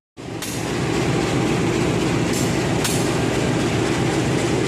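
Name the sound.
KA 425 train with CC201 locomotive arriving at Wlingi station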